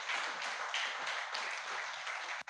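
A church congregation at a Sunday evening service applauds for the deacons, steady and full clapping from many hands throughout, with no voices over it.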